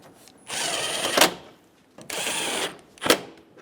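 A power tool drives bolts into the top of a 2005-2015 Toyota Tacoma grille in two separate close bursts, each a sustained whir ending in a sharp tightening spike, with quiet pauses between.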